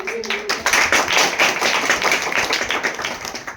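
An audience at a priest's jubilee during a St. Benedict feast celebration breaks into a burst of lively hand clapping right after a brief voice, and the close, dense applause continues until the end.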